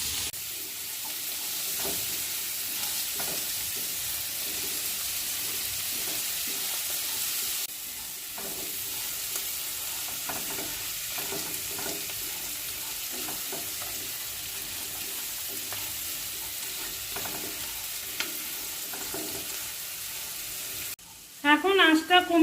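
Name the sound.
stirring and frying broken wheat pulao with salt on medium heat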